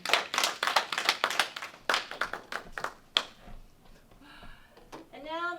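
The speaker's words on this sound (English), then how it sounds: "So one more round of applause for Dan." Audience applause at an awards ceremony honouring a writer, a burst of clapping near the start that thins into scattered claps before fading, with a voice speaking toward the end.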